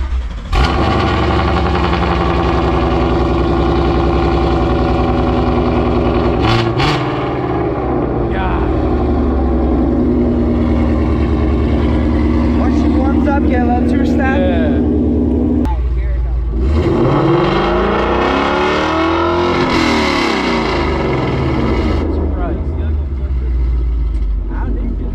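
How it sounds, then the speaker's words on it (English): A bone-stock Dodge Charger 392 fires up cold, its V8 roaring loud and close with a deep, steady rumble that surges in revs midway, while people talk over it. "we're about to get a cold start of the factory freak right here"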